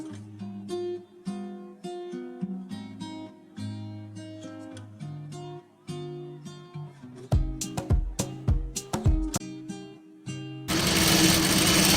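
A sewing machine stitches bias piping onto blouse fabric along a 1 mm stitch line, heard as irregular mechanical bursts. Background music plays, and a broad noisy rush comes at the end. No one speaks.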